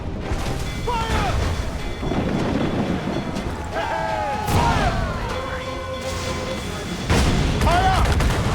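Ship cannons firing in a naval battle in Assassin's Creed 4 Black Flag: several loud booming blasts spread across the stretch, under wind and shouted voices.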